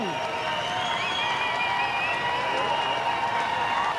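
Spectators cheer and shout at a 2001 Scandinavia versus Canada strongman competition, a steady wash of crowd noise with whoops and cries rising over it, while a voice talks over the din throughout.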